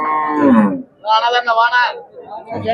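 Cattle low and moo in harmonic bursts at the Karungalpalayam cattle market, with a deep bellow first and a higher call after, amid a busy outdoor background.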